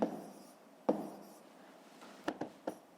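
A pen or pencil scratches numbers onto paper in a quiet room, a few short separate strokes and taps with gaps between them, faint and close.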